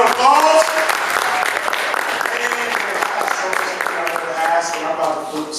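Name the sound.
audience applause at a leadership panel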